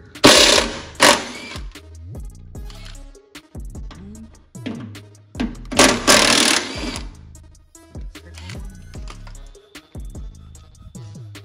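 Small impact wrench rattling out two 13 millimeter bolts during car body teardown work, several loud close bursts of hammering with pauses and clanks between them.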